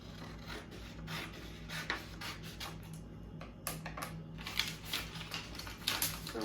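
Scissors cut fabric all the way around a 10-inch square, giving quiet, close, repeated crisp snips and rubbing scrapes in an irregular rhythm.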